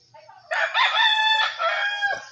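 A native rooster crows once in Siquijor, Philippines, a loud, drawn-out cock-a-doodle-doo with a strained, falling finish, heard close and clear against a quiet background.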